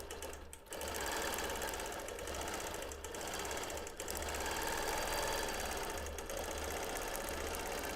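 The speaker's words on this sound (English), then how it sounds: "I'm stitching at a 10 stitches per inch length" A sewing machine free-motion quilting mod boxes with rounded corners at 10 stitches per inch runs in a steady, close whirring hum, broken only by brief pauses near the start and midway.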